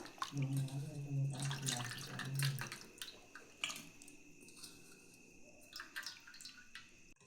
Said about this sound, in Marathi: ह्याचा अंग धुवून घेते